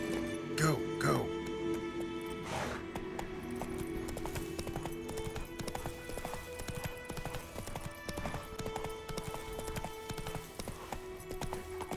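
Roach the horse galloping in The Witcher 3: Wild Hunt, a fast rhythmic clip-clop of hooves running steadily throughout, with a whinny near the start and game music and sound effects alongside.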